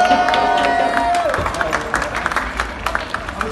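Crowd applauding and cheering the winners of a futsal tournament, with a steady wash of clapping throughout and a sustained tone at the start, under voices.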